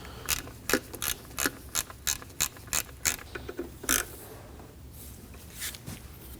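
Ratchet wrench rapidly tightening 10mm bolts on the alternator covers of a 2003-2006 Subaru Baja, a close run of sharp clicking bursts followed by softer, scattered clicks.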